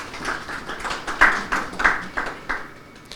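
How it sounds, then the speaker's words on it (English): A few scattered, fairly faint handclaps from a conference audience acknowledging a panel of journalists, sparse and uneven rather than a full ovation. "give a round of applause to our brilliant panels"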